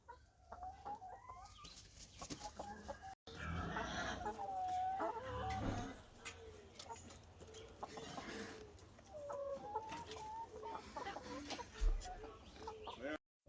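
Chickens on a farm cluck and murmur close by in a steady, irregular chatter, with people talking quietly among the birds.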